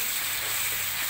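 Blended onion, red chili, garlic and ginger sizzle loudly as they are stirred in a hot pan for sambal petai with shrimp: a steady, close, unbroken hiss of frying with no talking.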